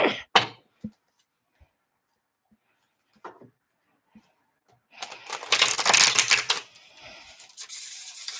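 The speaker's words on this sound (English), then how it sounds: "I'm gonna do one last shuffle and then I'm gonna pull from the bottom of the deck" A few scattered taps and flicks of tarot cards, then a quick burst of riffled tarot cards being shuffled together, fairly close.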